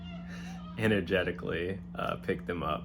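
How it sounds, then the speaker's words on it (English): Cats meow in a room, drawn-out wavering cries close by and overlapping with a person talking, over a steady low electrical hum. "wow, excuse my cats"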